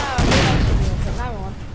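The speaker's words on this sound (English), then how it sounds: "911 has died from an explosion" A heavy explosion bursts in the online shooter APB Reloaded, a sudden loud boom followed by crackling gunfire-like debris and rumble, with a voice talking over the tail end.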